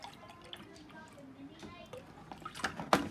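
Milk is poured into waffle batter, a faint, patchy liquid trickle with small splashes and clinks that grow a little louder near the end.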